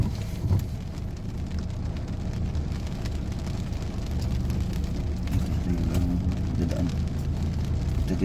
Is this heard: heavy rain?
yes